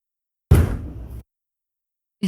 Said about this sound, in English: The banging on the door is getting louder.